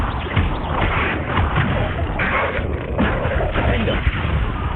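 Confringo fire spell blasts in the Hogwarts Legacy video game, a dense, loud barrage of booming magical impacts and crackling bursts that runs steadily throughout with voices mixed in.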